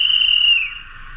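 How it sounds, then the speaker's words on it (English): A guard's whistle on an Oxford Rail NER J26 model locomotive with DCC sound, one shrill, steady tone held for about half a second, then fading into a soft echoing tail. "obviously we do have the guards whistle, which is on function 10 on your controller"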